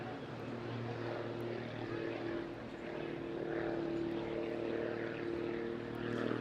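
Modified Pitts Special biplane flying an airshow display, its propeller engine droning with a steady buzzing tone that rises and falls slightly as it manoeuvres, fairly distant and faint.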